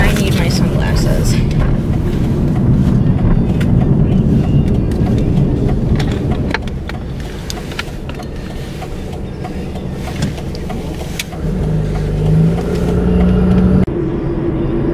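A car cruises along a highway, its steady low road and engine rumble filling the cabin throughout, easing slightly partway through, while a voice talks over it.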